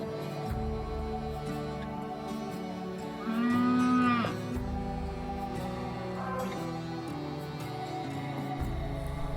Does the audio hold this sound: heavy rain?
no